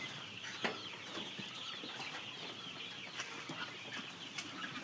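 Chickens on a poultry farm cluck and call in a steady, busy din, with scattered sharp squawks and occasional wing flaps standing out over the continuous flock noise.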